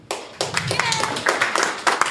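Audience at a comedy show clapping in brief bursts, close and fairly loud, mixed with voices.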